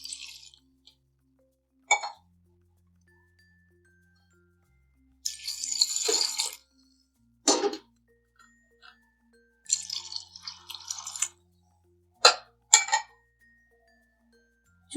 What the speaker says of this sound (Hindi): मग पानी डालेंगे।